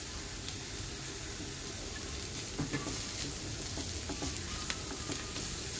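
Chopped capsicum and green chilies sizzle in a pan while being stirred for a chicken cheese roll filling, a steady faint frying hiss broken by soft scraping clinks of the spoon.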